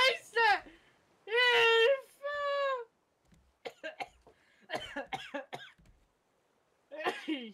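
A German-speaking player of the survival game Raft breaks into a coughing fit: a rapid cluster of harsh, voiced coughs, then a couple of longer rasping bursts, followed by scattered softer hacks and one final cough after a pause.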